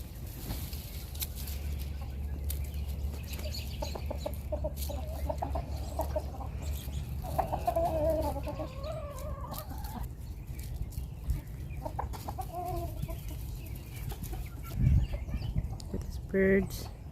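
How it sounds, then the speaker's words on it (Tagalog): Chickens cluck and call in a rural setting, giving scattered, fairly faint calls over a low background hum, with voices murmuring now and then. "Birds."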